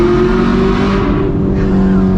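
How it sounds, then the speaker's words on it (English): A modified Chevrolet Camaro 1SS with a loud aftermarket exhaust floors it through a tunnel, a dense, close, continuous roar that echoes off the walls for the whole stretch. "Whenever we have a loud car, we always got to go through this tunnel and floor."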